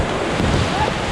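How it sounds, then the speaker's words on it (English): River rapids roar in a dense, loud wash of rushing water and wind on a rafting trip, heard close up without a break. "our first major rapid is coming"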